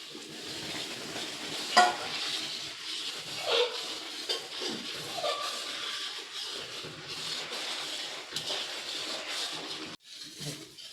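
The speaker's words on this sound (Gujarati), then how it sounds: "ધીમા તાપે જ સતત હલાવતા હલાવતા શેકાવા દેવું છે" Urad flour roasting and stirred continuously over a low flame for Gujarati adadiya, giving a steady close sizzle and scraping stir with no talking.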